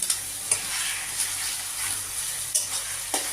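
Ginger, garlic, onion and green chili paste fries with onions for chicken curry, a steady close sizzle broken by regular scraping stirs of a spoon in the pan.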